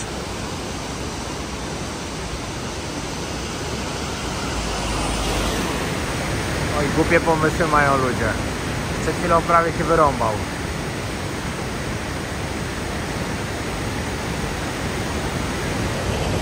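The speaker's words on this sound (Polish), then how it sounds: "Jechaliśmy właśnie pod piękny wodospad Latte Foss." A steady roaring rush of a Norwegian waterfall, Latte Foss, fills the whole stretch, loud and continuous, with someone talking briefly over it.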